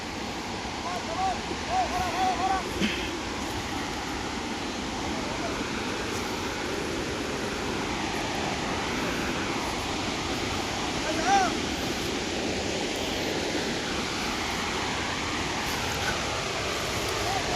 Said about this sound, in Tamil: அருவி சவுண்டு கேட்குதுங்களா உங்களுக்கு